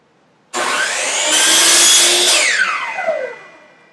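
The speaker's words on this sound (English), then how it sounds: "So the miter saw doesn't make any noise until you start using it, obviously, and most of the noise is made whenever you're actually cutting wood." A miter saw spins up with a sudden whine, then bites through wood in a loud, steady cut for about two seconds before the motor winds down with a falling pitch; no one talks over it.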